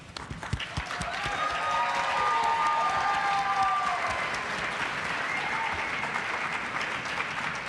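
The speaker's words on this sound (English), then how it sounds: "We also want to give another big round of applause to our talented apparel students" Audience at a university apparel design fashion show breaks into sustained applause, building within the first second into a dense, even clapping that holds steady with faint cheering mixed in.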